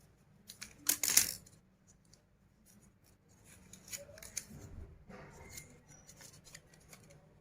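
Scissors cutting paper for a flower craft, with a sharp cluster of close snips near the start followed by quieter paper rustling and small handling sounds.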